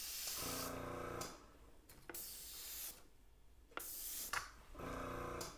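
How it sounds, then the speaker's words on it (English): A Grex airbrush sprays acrylic paint in several hissing bursts of a second or so each, separated by quiet gaps, close and fairly soft, with faint tapping between sprays. "This is the Grex airbrush kit that I'm using."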